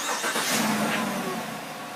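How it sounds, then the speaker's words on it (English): A 2017 GMC Sierra Denali pickup engine cranks and catches under remote start, a steady mid-range engine rumble heard fairly close for about two seconds with no talking. "The remote whistles and the engine cranks."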